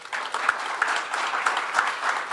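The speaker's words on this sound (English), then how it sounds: "A big round of applause to all of them." An audience applauding after an academic presentation, a dense, continuous patter of clapping from many hands at an even level.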